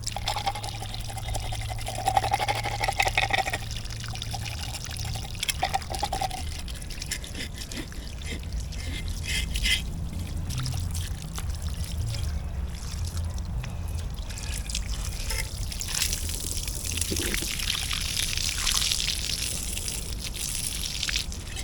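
Water running steadily from an outdoor pipe while a big barracuda is cleaned in Jamaica, a continuous close splashing trickle with small drips and knocks, no voices.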